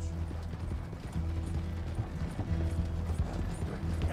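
Horse hooves gallop in the Red Dead Redemption 2 video game, a fast, steady clip-clop rhythm close by, mixed with light mechanical rattling from tack or a coach.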